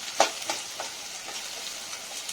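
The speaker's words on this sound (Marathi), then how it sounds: "आता आपण याच्यात अर्धी वाटी शेंगदाणे घालायचे." Peanuts frying in a pan with sautéed onion while preparing upma, giving a soft, steady sizzle with a few brief crackling bursts near the start, fairly faint and with no voices.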